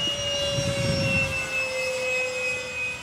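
An FMS Mirage 4000 RC model jet flies overhead on its maiden flight at a Danish field, its steady high-pitched turbine whine loud and continuous with a slight shifting pitch.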